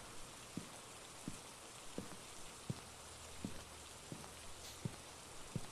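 Steady rain hisses in a spooky video game's environment, a soft, even wash with faint, regularly spaced taps or drips recurring roughly every second beneath it, quiet and with no talking.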